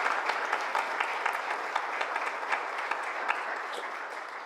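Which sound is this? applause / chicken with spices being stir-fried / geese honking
applause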